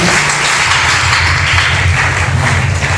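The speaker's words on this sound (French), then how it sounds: "Sous votre applaudissement, s'il vous plaît." Church congregation applauding together at a ceremony honouring an apostle, a steady wash of dense clapping that holds at an even, fairly loud level for about three seconds without any clear talk over it.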